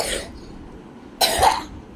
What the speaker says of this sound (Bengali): কাশি এখনো আছেই।